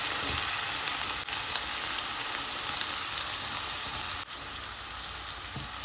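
Food sizzles steadily in a hot pan with vinegar and sauce added, a dense continuous crackle close by, with a couple of brief clinks or stirring knocks and no talking.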